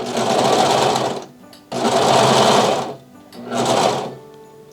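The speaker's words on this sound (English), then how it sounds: "I always do a first stitch just to kind of get it underneath the machine" A Vevor industrial sewing machine stitches fabric in three loud, close bursts of steady whirring, each about a second long and separated by short pauses.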